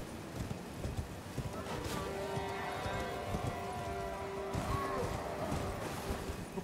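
A horse gallops in Elden Ring, its hooves pounding in a steady, rapid clip-clop rhythm beneath faint game ambience, with a soft snort or whinny in the mix.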